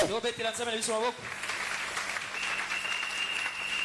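A church congregation applauds, a dense patter of clapping rising right after a voice calls out, holding steady and close for several seconds.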